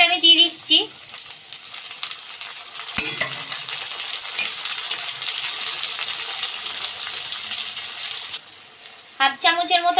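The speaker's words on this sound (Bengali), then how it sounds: "এই সাথে টমেটোটা আর কাঁচা লঙ্কাটা আমি দিয়ে দিচ্ছি।" Tomato and green chilli hit a hot pan for a chicken feet masala, giving a loud, steady sizzle with stirring scrapes that runs for most of the clip; brief talk comes before and after it.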